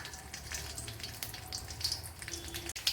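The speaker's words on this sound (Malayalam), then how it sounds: "ഇവിടെ ഇപ്പോൾ കടുക് പൊട്ടിയിട്ടുണ്ട്." Mustard seeds spluttering in two tablespoons of hot coconut oil for a Kerala spinach thoran, a steady close sizzle with scattered sharp pops and crackles, no talking.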